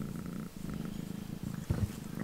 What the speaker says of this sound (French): tu ronronnes.